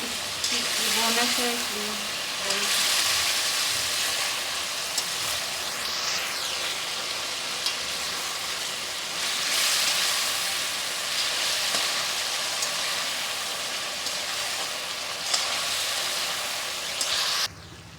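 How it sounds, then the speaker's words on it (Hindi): Chicken for chicken jalfrezi frying in a pan, a steady close crackling sizzle with occasional stirring scrapes, swelling and easing in waves; a voice speaks briefly near the start. "अब मेरा चिकन भुना गया है, अच्छी तरह मैंने भून लिया है।"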